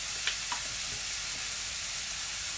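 Onions fry in olive oil in a pan with a constant close crackling sizzle, broken by a few light stirring taps near the start.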